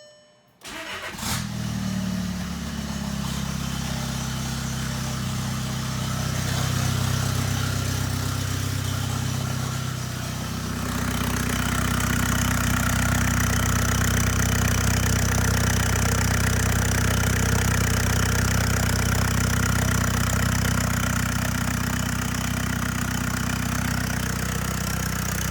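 A TDI diesel engine fitted with a used replacement turbo cranks and fires, then settles into a steady, rumbling idle that rises a little in intensity midway and runs on continuously, close and alone.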